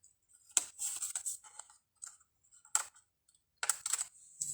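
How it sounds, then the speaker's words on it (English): Paper being trimmed from a handmade greeting card, with short bursts of crisp snipping and rustling in several separate clusters, close and fairly quiet against a silent background. "And then we're going to flip that over and trim off the excess."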